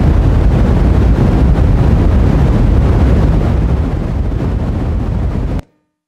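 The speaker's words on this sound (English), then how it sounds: "This is the sound of the Big Bang." Dense, loud roaring hiss of broadband noise from sonified gravitational waves of the Big Bang, steady and rumbling throughout, then cutting off abruptly into silence.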